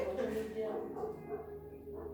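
Dogs bark and whimper indoors in short yips, mixed under a voice nearby, fairly soft and intermittent.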